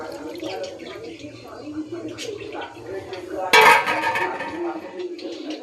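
Spiced marinade liquid is poured into a pan of chicken curry, giving a sudden burst of splashing sizzle over clinks and scrapes of a utensil against the pan, with a voice talking at a moderate level throughout.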